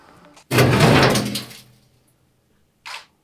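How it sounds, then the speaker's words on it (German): A door slams shut with one loud, heavy bang that rings briefly, followed a moment later by a faint, short knock. "Die scheiß Tür ist wieder zugefallen."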